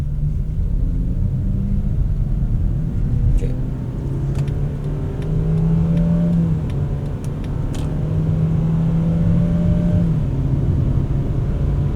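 A 2026 Mazda CX-60, a rear-wheel-drive SUV, accelerates with a loud, steady engine drone whose pitch climbs, levels off and climbs again through gear changes, heard from inside the cabin over constant road rumble.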